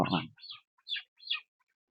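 A few short, high-pitched clucking calls from broiler chickens, spaced apart with quiet gaps, fairly faint.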